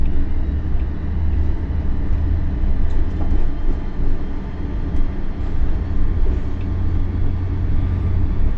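A BB 22200 electric locomotive running at low speed near Strasbourg, heard from inside the cab as a loud, steady low rumble and rolling drone with faint rattles, continuous with no talk.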